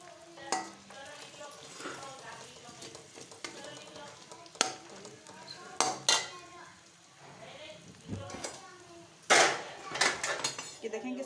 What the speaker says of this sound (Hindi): इसमें प्याज ऐड कर रही हूँ। प्याज को हल्का सा सौते करेंगे हम।